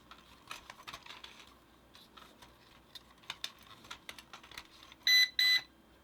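A clear double electronic beep from a Dynalog drone during compass calibration, two short bright tones close together, sounding after a stretch of soft clicks and handling noises.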